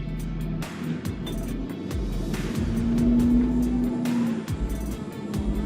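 A modified Ford Super Duty truck accelerates from a standstill toward 50, its engine note rising in a steady, close drone with a rumbling low end and a brief whine as it pulls.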